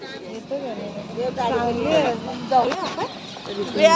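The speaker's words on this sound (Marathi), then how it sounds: "मस्त अशी कोंबड्यांची छोटी छोटी पिल्लं होती कलरफुल" Chickens and small colourful chicks for sale at a Saturday market at Tali near Guhagar, clucking and peeping close by with people talking over the birds.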